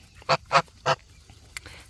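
Farm ducks and drakes squabbling: three loud, close nasal honking quacks in quick succession, then a fainter call after a brief pause, with wind in the background.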